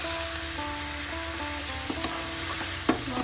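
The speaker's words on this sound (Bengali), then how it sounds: "ভালোভাবে এটাকে ভাজতে হবে, কষিয়ে নিতে হবে।" Banana stem (thor) frying in a pan, a continuous close sizzle with occasional spatula scrapes and a sharp knock near the end, no talking.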